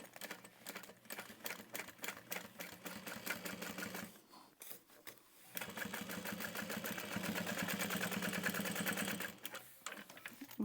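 A sewing machine top stitching through a bag lining, running in fast, steady bursts that stop briefly near the middle and resume for a longer, even run before a short final burst.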